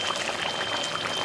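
Water poured into browned mutton korma in a pot while making restaurant-style chicken biryani, a steady broadband splashing and sizzling hiss lasting throughout, close and moderately loud with no talking.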